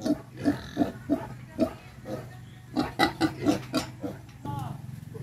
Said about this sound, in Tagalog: Malalaki na ulit yung biik.